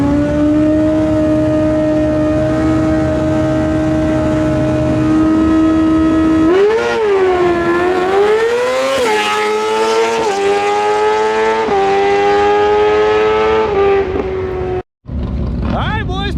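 A barn-find Kawasaki ZX6R motorcycle launches down a drag strip at 9,500 RPM. It holds a loud, steady high-rev drone, then climbs through rising gear pulls with short dips at the shifts before a sudden brief cut near the end.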